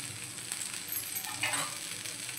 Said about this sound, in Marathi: आता दुसऱ्या साइडनेही आपण फ्राय करून घेऊया।